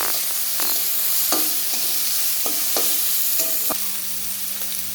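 Raisins and cashews are stirred in a hot pan for a vegetarian dal, giving a loud, dense sizzle punctuated by a series of light scraping clicks from the spoon.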